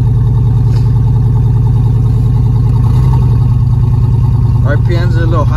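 A cold turbocharged car engine idles slightly high, giving a loud, steady, throbbing drone that runs unbroken throughout, with voices talking over it near the end.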